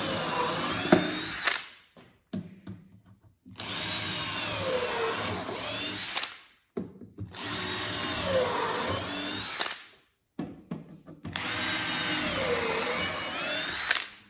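A power drill bores holes in a wooden table saw cutting jig, three long whining runs separated by brief silences and small handling clatter, close and loud with no talking.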